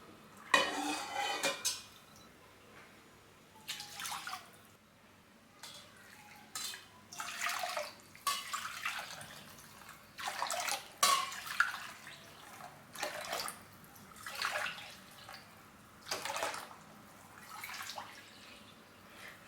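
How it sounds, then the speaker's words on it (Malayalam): Chicken stock for a yakhni pulao poured into measuring cups in a kitchen, with repeated short clinks of cups and utensils and splashy liquid pours in bursts, no talking. "നമുക്ക് ഈ ഒരു സ്റ്റോക്ക് ഒന്ന് മെഷർ ചെയ്ത് നോക്കാം എത്രയ്ക്ക് അളവുണ്ടെന്ന്."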